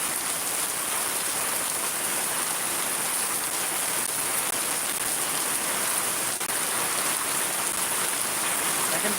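Heavy rain pours down in Shariatpur, a dense unbroken hiss of drops striking surfaces, steady and loud with no voices.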